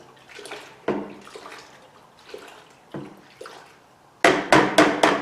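A silicone mix for dredge mats is stirred in water, producing a series of wet sloshes and clunks at a loose rhythm, close by, ending in a louder burst of rapid splashing.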